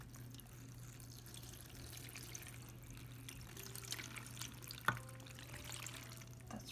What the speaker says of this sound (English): let's add our water slowly.